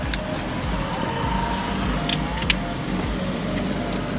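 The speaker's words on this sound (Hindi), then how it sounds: "ये कर दी मैंने स्टार्ट और ऑटोमेटिक है" A Mahindra Thar 2022 diesel automatic SUV idles just after starting, a steady low engine rumble with a faint click partway through, heard from inside the cabin.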